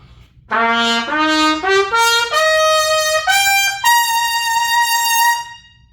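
A bright trumpet with a Spectrotone Red mouthpiece plays a rising sequence of sustained notes, each stepping higher, loud and close with no talking.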